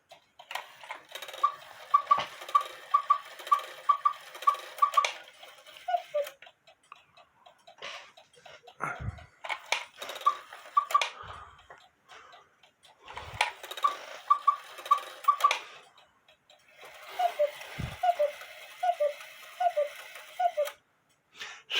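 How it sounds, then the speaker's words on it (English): Hubert Herr 1950 cuckoo quail clock movement ticking in quick bursts of tick-tock, with faint mechanical clicks and short pauses between runs, close and fairly quiet. "Sounds more like a cuckoo clock."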